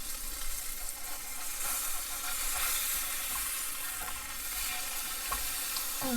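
A homemade fish burger patty fries in a pan with a continuous, even crackling sizzle and small pops, close and steady throughout with no talk.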